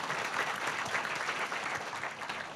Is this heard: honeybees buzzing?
no